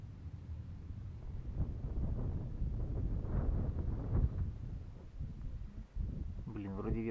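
Gusty wind on an outdoor fishing trip buffets the microphone with a low, rumbling roar that rises and falls throughout.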